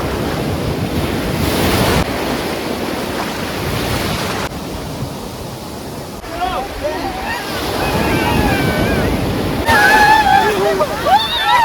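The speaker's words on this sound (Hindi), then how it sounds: "गोल्डन बीच अपनी साफ रेत और समुद्र की जबरदस्त लहरों के लिए जाना जाता है" Strong ocean surf at Golden Beach in Puri rolls in continuously with heavy wind buffeting the microphone, loud and close, while people talk and shout in the background.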